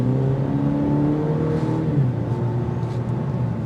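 Cadillac CT4 turbo engine accelerating in normal tour mode, a steady rising drone with a gear change midway, heard from inside the cabin with no talk.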